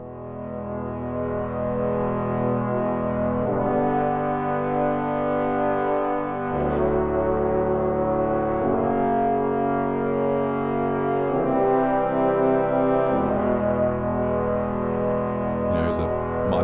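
Sustained brass chords from a CineBrass sample library patch, deep and warm, changing every few seconds in a slow continuous progression, loud and close without talk.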